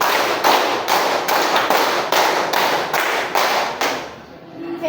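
A classroom of students clapping together in rhythmic sets of three: sharp, crisp hand claps in tight bursts that repeat several times, loud and close, before trailing off.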